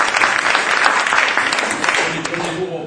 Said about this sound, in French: Applaudissez-le aussi.